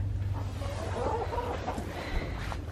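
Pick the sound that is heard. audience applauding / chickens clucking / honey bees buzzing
chickens clucking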